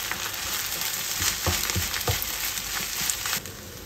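Fried rice (sinangag) with vegetables, pepper and soy sauce sizzles steadily in a pan while being stirred, with scraping and clinking strokes of the spatula through the continuous frying hiss.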